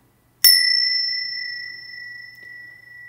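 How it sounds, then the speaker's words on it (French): A single small meditation bell is struck once, ringing with a clear, bright tone that sustains and slowly decays in an otherwise quiet room. "je vais scander comme d'habitude avec ces petites cloches"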